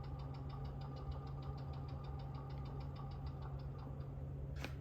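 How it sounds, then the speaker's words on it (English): A compressor in the sound unit of a model railway branch-line EMU runs as a steady low motor drone with a rapid rhythmic knocking pulse throughout, fairly faint and alone. "Had to stop while the compressor kicked in."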